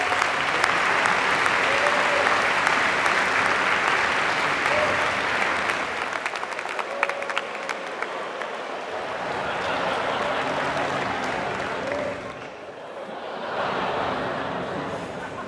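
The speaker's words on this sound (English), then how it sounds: "Please join me in another round of applause for this committed group of student leaders." Sustained applause from a large crowd at a Stanford Graduate School of Business diploma ceremony fills the space, dense clapping that swells, eases slightly, then continues.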